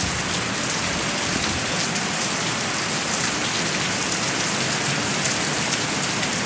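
Heavy rain pours steadily at a public cemetery, with wind driving it into a dense, continuous roar of drops that stays loud and even throughout, no voices present.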